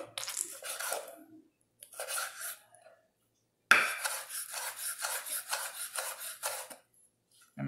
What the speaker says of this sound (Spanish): Solo hay que picar nuestro tomate